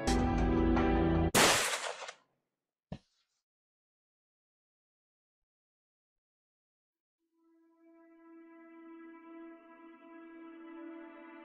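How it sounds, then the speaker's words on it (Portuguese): In a video game, a loud burst of sound cuts off abruptly, followed by a single sharp gunshot, then silence before a low sustained musical tone swells in. "E é aqui que Nishiki aperta o gatilho e erra o tiro em Kiryu"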